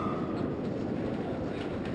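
A train from the video game Honkai Star Rail runs with a steady, dense low rumble and faint rhythmic rattling throughout. No one speaks.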